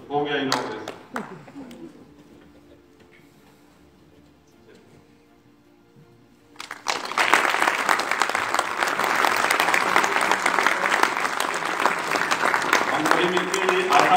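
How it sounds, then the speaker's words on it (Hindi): Audience applause at a book inauguration ceremony breaks out loudly and fills the room, steady and sustained for several seconds, after a stretch of quieter background and brief talk. "पर्दा हटेगा और ताली जोरदार बजा देने के"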